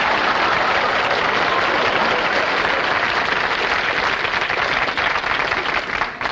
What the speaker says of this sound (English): Give the man a nice round of applause, please.